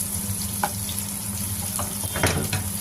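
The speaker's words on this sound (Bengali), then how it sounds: "হালকা ভেজে নিচ্ছি।" Onions fry lightly in a pan at medium heat, giving a continuous close sizzle over a low steady hum, with a few soft clinks and scrapes of stirring and no voices.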